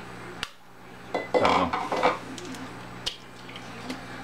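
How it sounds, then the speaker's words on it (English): Two farm eggs are beaten into a batter in a bowl: a few sharp clinks of a utensil against the bowl and a short burst of wet, squishy mixing, all up close with no one speaking. "now we're going to beat in the eggs."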